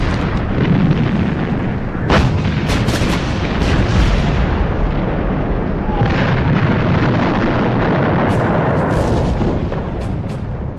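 Massed British artillery bombardment on the Somme in 1916, a continuous loud roar of gunfire with sharp bursts and booms rising out of a dense rumbling barrage, sustained throughout.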